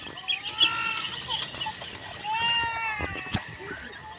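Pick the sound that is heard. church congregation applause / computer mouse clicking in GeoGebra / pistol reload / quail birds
quail birds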